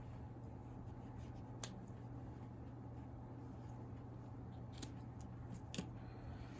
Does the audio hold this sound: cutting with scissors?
yes